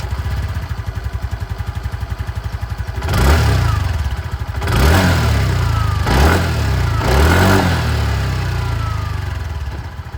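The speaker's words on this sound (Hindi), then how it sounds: "दोस्तों इसकी जो एग्जॉस्ट साउंड है वो भी मैं आप" A 2025 TVS Jupiter 125 scooter idles with a rapid, even putter at its exhaust, then is blipped four times in quick succession, each rev swelling loud and falling back to idle.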